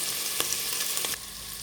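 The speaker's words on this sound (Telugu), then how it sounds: "ఇది మంచిగా ఫ్రై అయిపోయింది." Avakaya mango pickle mixture frying in a pan for biryani, a steady close broadband sizzle with a few brief crackling spikes, no talking.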